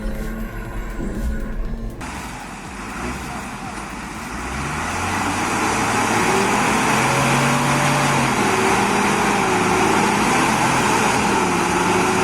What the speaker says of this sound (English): can that little tractor drag a loaded AS950 out of this?